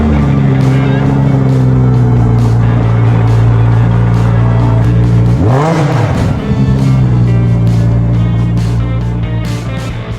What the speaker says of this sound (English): Now, you said I can rev this one up.